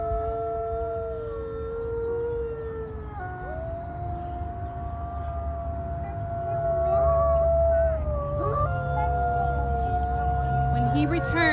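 A wolf howl voiced during a puppet theatre performance at Sugarloaf Mound in St Louis, long wavering tones rising and falling over steady background noise, growing louder toward the end.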